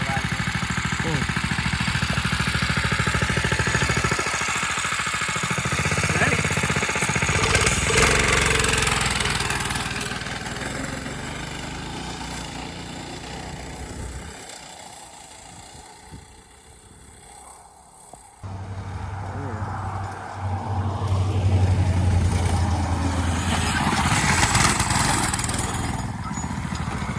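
A home-built go-kart engine runs loud and close, buzzing like a small lawn-mower-type motor as it revs and then eases off, with a lower idle near the end and people's voices mixed in.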